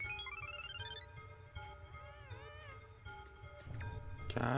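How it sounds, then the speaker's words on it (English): A cat meows in the video game Yume Nikki: a series of synthetic, tonal mewing calls with rising and wavering pitch, fairly clear over a low game background hum, ending with a brighter burst. "Cat."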